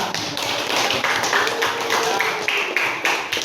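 Hands clap in a quick, steady rhythm of many sharp close taps, fairly loud, with a faint hiss of background noise underneath and no voices.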